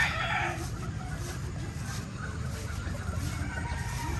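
A rooster crows among gamefowl stags in an outdoor pen, with clucking fowl and a low steady hum of background noise.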